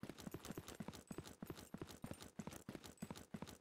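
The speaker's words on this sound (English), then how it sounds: "I just heard a footstep." Repeated footsteps in ZERO Sievert, a steady run of dull, evenly spaced steps close by, continuing throughout with no talking over them.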